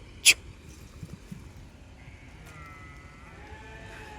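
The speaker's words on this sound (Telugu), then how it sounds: "ఆ పోతు చూడు ఎంత పెద్ద ఉందో, గొర్రె పోతు." A sheep, a large ram out in a desert grazing area, bleats once sharply at the start, then quieter faint animal sounds and outdoor noise follow.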